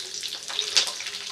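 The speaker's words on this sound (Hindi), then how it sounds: "4 से 5 हरी मिर्ची बीच में से कट मार लेंगे, वो तल लेंगे।" Four or five slit green chillies frying in hot oil, a short burst of close hissing sizzle with a brief crackling spike near the middle.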